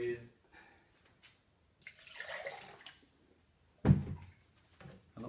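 Water is poured in short splashy bursts into a bowl of banana mash, with pauses between pours, while a person talks nearby.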